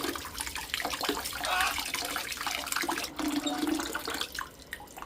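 Tap water runs steadily while eggs are being washed, with a close, hissing splash that shifts slightly as hands move under the stream.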